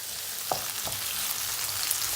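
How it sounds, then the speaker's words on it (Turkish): Peppers fry in a pot for an eggplant dish, giving a steady, loud sizzle close by. A couple of brief stirring scrapes break through the hiss, and no one speaks. "Biraz daha fazla kızartıyorum biberleri."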